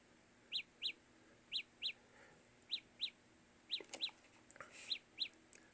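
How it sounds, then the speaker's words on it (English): A repeating electronic locator chirp from Samsung Galaxy Buds earbuds, in pairs, bright and high like a small bird, sounding about ten times at a steady pace with quiet between. "So basically, that's what it sounds like. So it sounds like a bird chirping."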